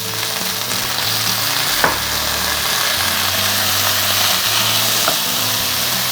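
Prawns, long beans and coconut pieces frying together in a pan, giving a loud, steady close sizzle and hiss with a couple of brief clinks and a faint low hum underneath, no talking.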